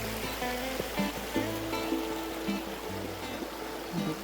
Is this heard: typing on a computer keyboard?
no